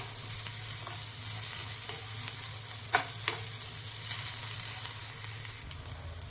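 Chopped onion sautéing in a pan until golden makes a constant close hiss of frying, with a few brief utensil scrapes and taps, and no speech.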